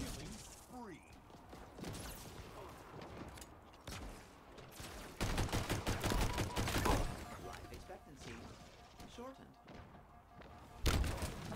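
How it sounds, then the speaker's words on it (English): A grenade goes off on the ground in Halo Infinite amid a firefight, a sharp loud thump standing out near the end over scattered shots and game noise, with voices talking. "Why did that grenade explode the second it touched the ground next to me?"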